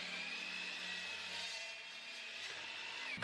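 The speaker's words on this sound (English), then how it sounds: "we're gonna start cutting to rough length all the pieces on the miter saw" A miter saw runs steadily through exotic hardwood as the pieces are cut to rough length in a workshop. It holds one continuous whine for about three seconds and stops abruptly at the end, with no voices.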